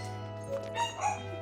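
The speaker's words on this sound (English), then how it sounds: "I apologize if you can hear my dog being a whiny little brat in the background" A dog whines and whimpers faintly in the background, with three short rising yips spaced about a quarter second apart over a steady low hum.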